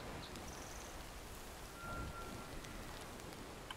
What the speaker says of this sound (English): I don't know if they're enjoying the rain though.